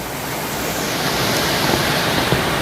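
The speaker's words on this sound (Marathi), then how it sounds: "खूप चिखलाचं पाणी, आता जस्ट पाऊस पडतोय" Steady rain with muddy running water on a forest road near a temple outside Mulund and Thane, a dense continuous wash of noise, close and fairly loud throughout, with no voices.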